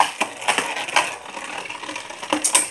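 Spinning beyblade tops launched into a plastic stadium, clattering and scraping loudly with sharp knocks as they collide and grind against each other.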